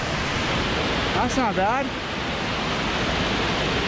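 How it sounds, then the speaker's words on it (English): Waterfall on Tamihi Creek near Chilliwack, British Columbia: a steady, loud broadband rush of falling water fills the whole stretch, with someone speaking briefly over it. "There's a nice waterfall."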